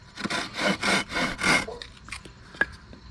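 A medium-coarse folding pull saw rasps through wood in four quick strokes, then a few lighter scrapes and a small knock as the cut finishes, close and clear with no talking.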